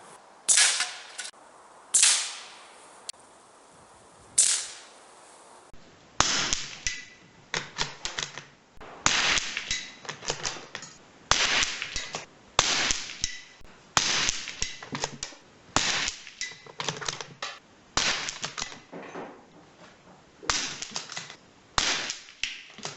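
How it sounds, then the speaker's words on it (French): Suppressed .22LR rifle shots with bullet impacts on metal targets, a series of sharp muffled cracks each followed by a ringing clang, irregularly spaced and fairly loud, no talking. "on va parfois plus entendre le bruit de l'impact du projectile sur la cible, surtout sur des cibles métalliques, que le tir lui-même."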